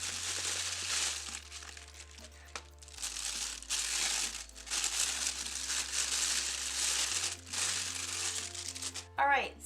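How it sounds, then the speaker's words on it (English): Bubble wrap and plastic packaging crinkle and rustle in repeated bursts as a Canon camera is unwrapped close up, with a person talking throughout. "So if we open it up here, I really love how Canon has done their packaging with all this bubble wrap and plastic and everything."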